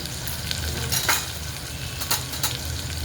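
Turmeric powder goes into masala rice frying in a pan, with a continuous sizzle and several scraping strokes of a spoon stirring against the metal.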